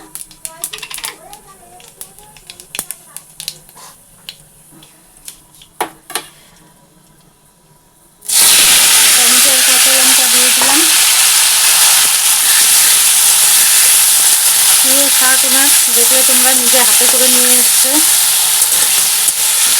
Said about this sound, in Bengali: তো আমার ভাজা হয়েও গেছে এই যে এখন শাক বসিয়ে দেবো